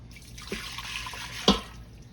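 Beef stock poured into a pot while making smothered beef short ribs, heard as a soft liquid splash with drips and two brief louder splashes, close and alone.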